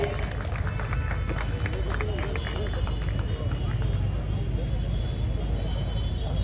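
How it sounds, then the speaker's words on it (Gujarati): An audience at a Parshuram birth anniversary event in Gandhidham applauds in welcome, a dense, continuous wash of clapping mixed with crowd murmur that stays loud and even throughout. "આપણે સૌ એમને તાળીઓથી વધાવી લઈએ ધવલભાઈને"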